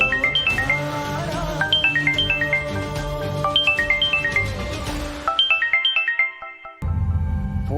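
A phone ringtone plays a bright, repeating chime melody, loud and close, for several cycles before cutting off, with no one speaking.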